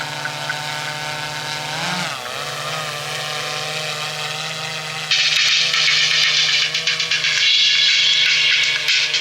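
A DJI drone's loudspeaker plays audio at full volume outdoors over the steady buzz of its propellers; partway through, a loud, bright, harsh blast of sound cuts in and stays on.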